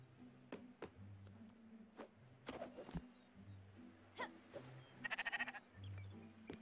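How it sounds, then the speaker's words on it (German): A sheep bleats once in a short, wavering burst amid soft clicks and quiet ambient tones in the video game Spiritfarer, faint and somewhat distant. "Ich höre ein Schaf."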